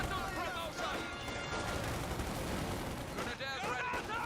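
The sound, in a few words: grenade explosions and gunfire in Company of Heroes 2 video game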